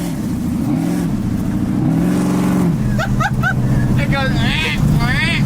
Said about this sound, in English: dude, you hear the blower?